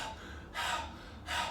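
A voice imitates someone gasping for air after exhausting training rounds, with two sharp, breathy inhalations about a second apart, close and fairly quiet.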